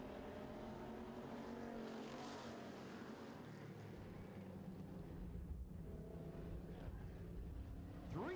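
Street stock race cars run at a speedway, a quiet, distant drone of several engines rising and falling as they circle, with no voices.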